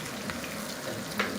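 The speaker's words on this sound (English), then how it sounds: "Yes, it's beginning to sizzle" Steady, soft sizzling of onion frying in a pan, a quiet crackling hiss with a small clink near the end.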